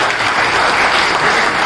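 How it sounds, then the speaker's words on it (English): A crowd applauds continuously at an engineering college fest, dense clapping at a steady loud level throughout. "request you to do round of applause from them."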